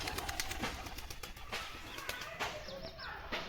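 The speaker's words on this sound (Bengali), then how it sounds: "এই যে পায়রা" Pigeons in a loft of Andhra and Madras breeds coo in a low, steady murmur that runs throughout, with a few brief higher chirps and flutters mixed in nearby.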